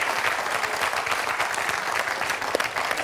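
A studio audience on the French TV quiz show Questions pour un champion applauds steadily, a dense wash of clapping at even volume that carries on for a few seconds.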